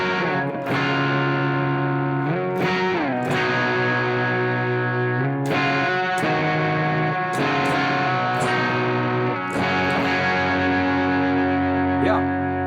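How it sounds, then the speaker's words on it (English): An electric guitar plays through a Limelight distortion pedal paired with a Citadel and UA OX Stomp, sustained overdriven chords shifting every second or two, loud and continuous with no talk. "Let's add the distortion as well from the Limelight."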